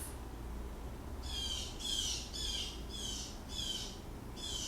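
Birds squawk outdoors in a repeated series of harsh, scratchy calls, about six in a row, heard at moderate distance over a quiet room background.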